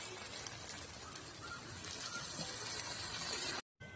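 Water being added to a pan of shrimp, mustard and poppy seed paste while cooking a drumstick curry, a steady wash of hissing, pouring sound that ends abruptly in brief silence.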